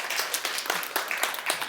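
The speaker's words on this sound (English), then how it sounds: "Big round of applause for that." Audience applause at a live body language show, a dense wash of many hands clapping steadily at close range for a short burst, with no talking over it.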